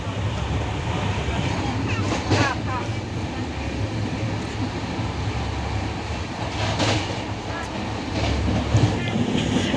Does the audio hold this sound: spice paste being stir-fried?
no